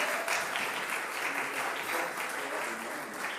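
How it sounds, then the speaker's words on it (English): An audience at a Christmas concert applauds a brass quintet, a dense, even wash of clapping that holds steady throughout with no voices rising above it. "One more round of applause."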